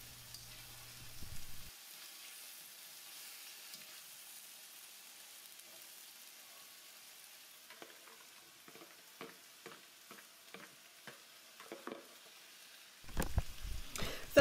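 Onions, carrots and broccolini stir-frying in a sauce-coated pan, a soft steady sizzle that turns into scattered stirring clatter, then a louder burst of frying near the end.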